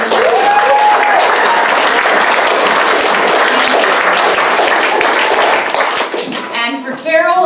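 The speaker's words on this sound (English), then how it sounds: "Can we get a round of applause for Alan on the board?" A theatre audience at a live concert gives loud, sustained applause for the sound engineer, dense clapping filling most of the moment before it thins out and a voice speaks at the end.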